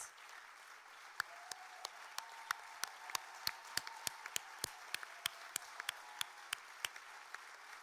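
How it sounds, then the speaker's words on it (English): Audience clapping at a conference closing session: sparse, faint, evenly spaced claps sounding like a small number of hands rather than a full crowd, heard from a distance over quiet room tone. "A huge round of applause for their service."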